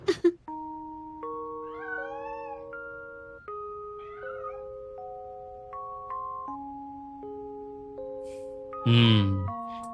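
A cartoon cat gives a few short, warbling meows over a backdrop of steady, held musical tones, ending in a louder burst of sound near the close.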